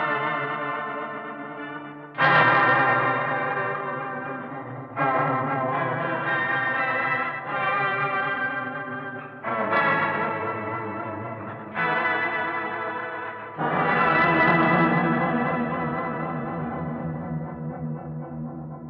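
Electric guitar notes played through an Electro-Harmonix Ravish Sitar effects pedal, buzzy and warbling with vibrato, delay and reverb, several sustained plucks ringing out one after another.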